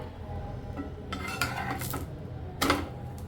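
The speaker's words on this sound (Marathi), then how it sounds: "हे बघा आता आपण पलटी करून आपला डोसा झाला आहे की नाही बघूया" A spatula scrapes and clatters against a hot pan as a fenugreek-dusted dosa is flipped, with two short metallic bursts over a low kitchen background.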